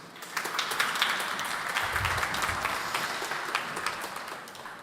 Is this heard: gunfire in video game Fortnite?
no